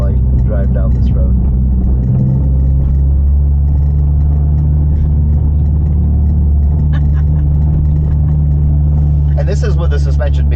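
A car on stiff coilovers rolls down a rough road, its cabin filled with a loud, steady low rumble and road noise as people talk over it.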